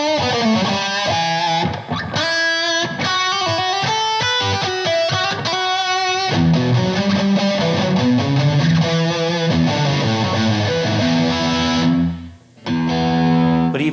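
Heavily distorted PRS electric guitar plays loud, crunchy high-gain riffs and chords, with a brief drop in volume near the end before the playing resumes.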